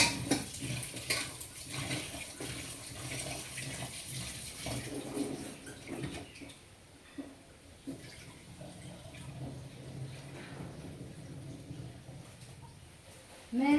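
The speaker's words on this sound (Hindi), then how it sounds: "जब मीट धोता हूँ ना, थोड़ा नमक डाल के रख देता हूँ पानी में" Tap water runs steadily while meat is rinsed in a home kitchen, a continuous close splashing wash with brief louder bursts, fading slightly midway before picking up again.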